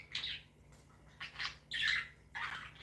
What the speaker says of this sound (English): That's my birds singing this morning.